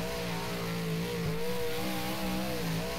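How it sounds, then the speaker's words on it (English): A street stock race car engine in the rFactor racing game at East Bay revs hard and steadily, loud and continuous throughout with slight pitch wavering, with no talking. "Our old engine's working pretty hard"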